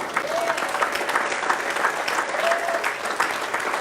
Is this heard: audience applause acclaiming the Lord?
yes